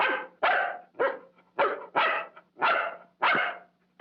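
A dog barks in a 1950 film noir scene, about eight sharp, close barks in a steady rhythm with short pauses and no voices.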